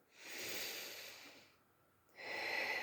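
Slow, deep breaths during a full-body relaxation exercise: a long soft airy exhale, a brief pause, then another breath drawn in, quiet and close with no voice over it.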